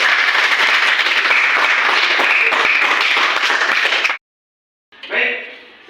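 Classroom applause for a group presentation: steady, dense clapping from many students for about four seconds, stopping abruptly, followed by a brief burst of voices.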